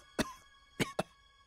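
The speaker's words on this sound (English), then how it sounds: "I mislike the sound of that cough." A character in the Tactics Ogre: Reborn video game coughs three times, one short cough followed after a pause by two quick ones in succession, close and fairly quiet with no talk over them.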